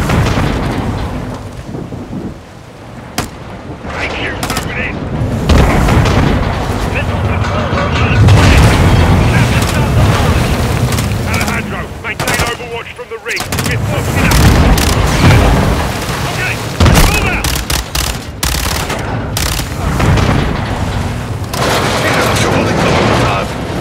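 Heavy gunfire and booming explosions fill a Call of Duty: Modern Warfare battle, loud and nearly continuous, with shouted voices mixed into the din.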